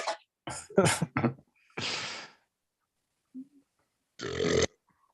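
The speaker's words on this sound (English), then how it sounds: "That was a burp." A few short vocal bursts come first, then a loud, drawn-out burp, a small grunt, and a second long burp close to the mic.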